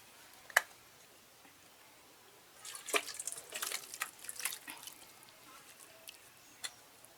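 Cooked shol fish sour curry with vegetables and stalks being poured into a dish, a soft wet burst of liquid splashing for about two seconds after a single sharp clink, then a few faint drips and a tap, close and quiet.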